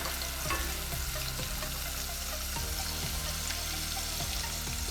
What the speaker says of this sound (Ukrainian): Кидаємо в кастрюлю вершкового масла небагато, додаємо часник і третину гострого перцю. Це все обсмажуємо до золотистості.